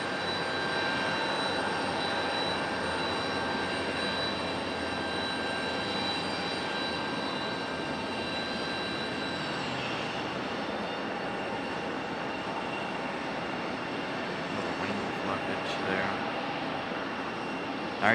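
Delta airliner jet engine droning steadily at RDU airport on a breezy day, a broad, continuous roar with a faint whine; a person talks over it throughout.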